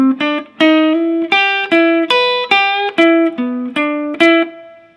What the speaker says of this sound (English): our next lick is going to combine notes from the A blues scale and also the E blues scale.